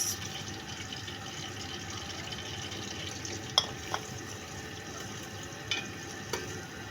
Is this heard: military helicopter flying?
no